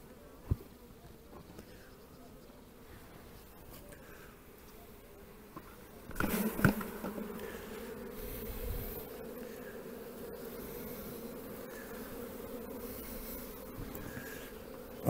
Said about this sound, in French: Là, il y a des jeunes abeilles.